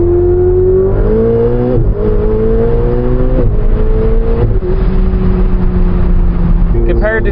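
A Ferrari 488 Spider's turbocharged V8 revs hard through several rising pulls with gear changes, loud and close, and a voice briefly talks over it.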